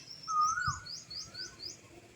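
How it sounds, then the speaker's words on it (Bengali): A single Asian koel calls nearby with a rising whistled note, followed by a series of faint repeated chirps in the background. "কোকিল ডাকছে"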